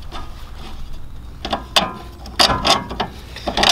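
A ratchet clicks in quick uneven bursts as a bolt is removed from a Nissan, close and clear with no talk.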